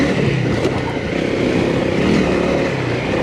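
A Kawasaki KLX 140G dirt bike engine chugging up steep, muddy trail switchbacks, giving a loud, constant low drone with rumble from wind and riding throughout.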